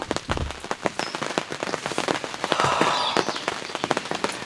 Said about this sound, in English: The rain's starting to pick up like they said it was